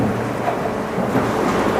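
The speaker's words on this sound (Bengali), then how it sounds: "এরপরে আমরা এটাকে ফ্রাই করব, তেলে ফ্রাই করব।" Chicken pieces deep-frying in hot oil in a restaurant kitchen, a dense continuous sizzle and crackle at steady loudness throughout, with no talk.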